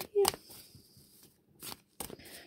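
A zombie-themed card deck shuffled for a tarot reading, a few short riffling bursts separated by quiet gaps, close and fairly soft, with a voice talking around them.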